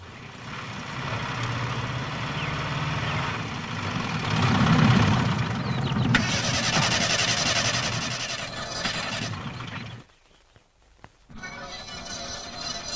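A car with a weak battery churns with a steady, rough mechanical drone as it fails to start. The sound cuts out briefly near the end, then resumes at a lower level.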